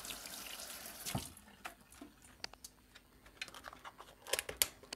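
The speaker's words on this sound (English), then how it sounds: "Cross-contamination. Wash your hands." Hands are washed under a running kitchen tap, soft running water with intermittent splashes and clicks, quiet and close.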